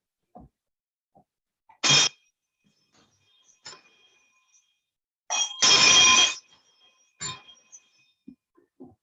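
A hand-rung town crier's bell at a county gathering gives two loud bursts of clanging with short isolated strikes between, ringing alone in a quiet space.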